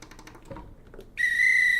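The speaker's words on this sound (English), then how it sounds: "we got a whistle" A sound-effect whistle plays on a live stream, a sudden sustained high shrill tone that starts after a brief stretch of quiet, faint rustling and continues loud to the end.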